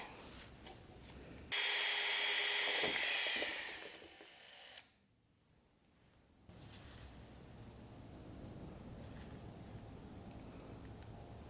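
A loud power drill grinds steadily through a plant pot for a few seconds, winds down, then a brief quiet before low background noise returns.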